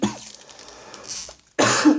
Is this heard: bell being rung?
no